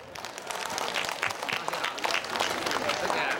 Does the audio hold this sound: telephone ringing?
no